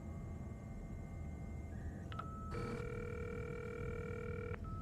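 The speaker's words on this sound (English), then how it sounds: "Sounds like a dial-up modem." An in-game phone call in Cyberpunk 2077 gives off faint dial-up modem tones: a few steady electronic beeps and held pitches over a soft hiss, with no talking.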